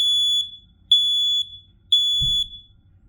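A smoke alarm sounds three loud, piercing electronic beeps in an even rhythm, close by, with a soft thump near the end.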